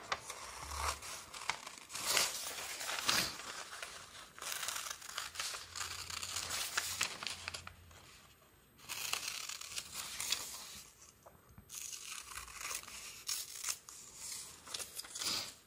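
Scissors snip and paper crinkles as vintage printed images are cut up for a handmade watercolour journal, steady close rustling and cutting in bursts with short pauses, no talking.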